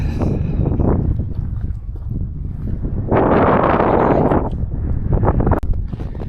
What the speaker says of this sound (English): The wind's coming from the southwest